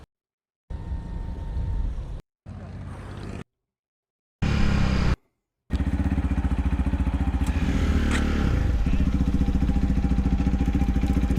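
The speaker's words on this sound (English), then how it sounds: "That's got to be like a scooter engine." Motorcycle with a small scooter-like engine running: several short bursts of steady droning separated by cuts, then a sustained, close, loud idle with a pulsing beat and some rattling, and no talk.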